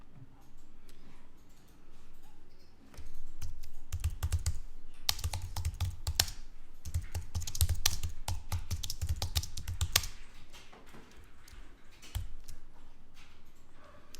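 Typing on a computer keyboard to enter a file name: a close, steady run of crisp key clicks that continues for several seconds with brief pauses between words.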